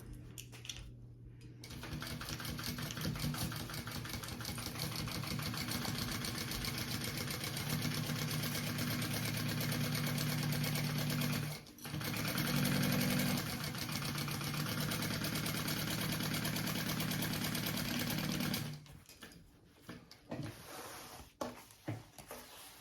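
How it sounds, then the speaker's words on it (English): A sewing machine runs a long continuous seam along the bottom of a crossbody bag, a steady mechanical whir broken by one brief pause before stopping near the end, followed by a few handling clicks. "sew that together along the bottom"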